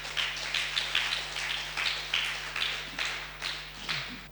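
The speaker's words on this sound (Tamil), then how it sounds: "விசுவாசிக்கிறவங்க மட்டும் ஒரு கரந்தட்டு கொடுக்கலாமே" A church congregation at a Tamil Christian sermon claps in a steady, even rhythm, with around a dozen crisp claps heard at moderate distance over a low electrical hum.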